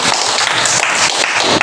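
A class of students claps for a student group in a classroom, a dense, loud burst of hand-clapping that fills the whole moment without pause.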